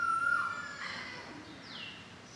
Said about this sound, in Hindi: हवा चल रही है, कोयल बोल रही है,